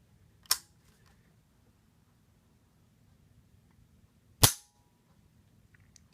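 AR-15 rifle trigger dry-fired twice on a tabletop, two sharp isolated clicks about four seconds apart, crisp and close against near silence, with a faint tick at the end.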